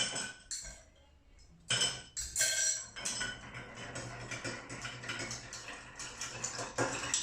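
Ice is stirred in a glass of drink, producing close, quiet clinks and rattles of ice and spoon against glass that start after a brief pause and carry on in a busy, continuous jingle.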